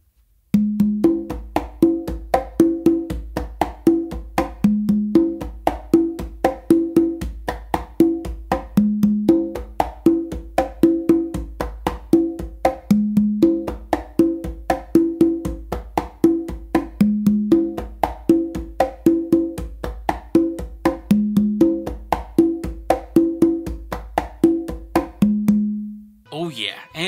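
Congas play a steady cha cha cha pattern, crisp slaps and tones with ringing open notes recurring in a tight repeating cycle, close and clear for nearly half a minute before ending.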